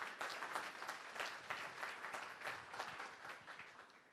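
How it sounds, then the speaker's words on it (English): Steady applause from a modest audience at a mayor's public remarks, even and continuous, rather faint and distant, tapering off at the end. "So let's give them another round of applause."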